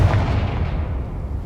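A Confringo blasting spell goes off in Hogwarts Legacy, a single loud, close boom that strikes at once and then fades away over about a second.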